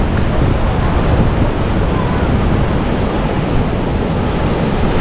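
Ocean waves wash loudly and steadily at the water's edge of Legian Beach in Bali at high tide, a continuous roar of surf mixed with wind buffeting the microphone.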